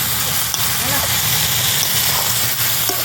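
Masala spice paste being fried for a thin chicken and potato curry gives off a loud, dense, continuous sizzling hiss close by, with faint voices partly buried underneath.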